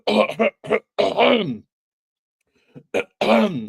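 Several short, harsh coughs and throat-clearing bursts sound close up, in two clusters separated by a quiet pause.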